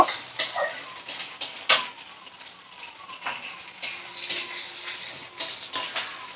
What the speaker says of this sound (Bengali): তো 3 থেকে 4 মিনিট পেঁয়াজ রসুন আর আলু এইভাবে একটু ভাজা করে নিচ্ছি